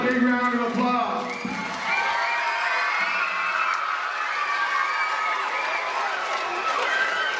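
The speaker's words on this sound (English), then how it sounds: "Give yourself a big round of applause" A school audience of children claps and cheers for several seconds, a loud, busy burst of applause and shouting filling the room.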